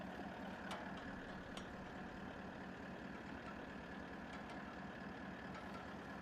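A diesel 4WD idles steadily in the background during a Simpson Desert crossing toward Uluru, a constant low drone with faint ticks and clicks over six seconds.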